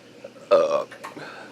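A single throaty burp, close and fairly loud, rumbling for about a third of a second, followed by a brief murmur of voice.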